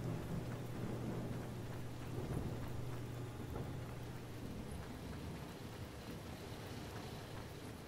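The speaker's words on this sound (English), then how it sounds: "Thunderstorms." Steady rain and a low rumble of thunder with wind in the Watch Dogs video game, a continuous stormy wash at moderate level with no voices.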